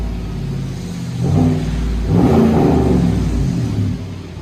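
A Chevy/GMC truck with a 5.3L V8 and an aftermarket exhaust revs close by with a deep tone. The steady idle swells twice into throaty revs and then settles, with no talking.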